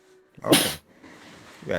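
A single sharp human sneeze bursts out close by, short and loud, with brief casual speech just before and after it.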